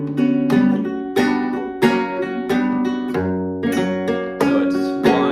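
A flamenco guitar plays the basic Soleá compás, with strong strummed chords and rasgueado accents falling in a steady cyclic rhythm, each stroke ringing out close and clear, solo with no voice.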